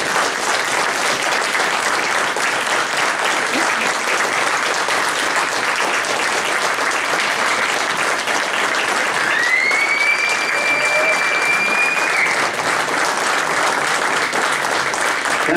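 Sustained applause from a large crowd at a presidential debate fills the room, dense and steady throughout, with a faint whistle-like tone rising briefly partway through.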